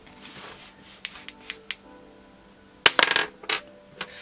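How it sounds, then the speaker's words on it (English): Dice rolled onto a tabletop for a cash savings challenge: a few sparse light clicks, then a sharp cluster of rapid rattling taps as they tumble and settle, close and clear with no talk. "let's do the roll the dice double the savings challenge"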